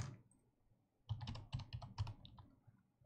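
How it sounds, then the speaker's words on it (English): Someone taps slowly on a computer keyboard, producing a short run of distinct, unevenly spaced key clicks. The clicks are close, quiet and heard alone after a brief pause. "Typing like an uncle with one finger."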